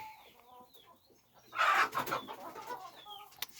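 Several chickens cluck and murmur nearby, with one louder burst of squawking in the middle before the soft clucking continues.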